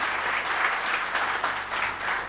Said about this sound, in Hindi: ये जो तालियां बज रही है मेरे लिए नहीं बज रही है